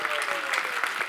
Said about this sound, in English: this is the right time for clapping